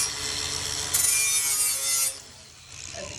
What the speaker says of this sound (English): It's got a sanding disc on there. It's a 60 grit sanding disc.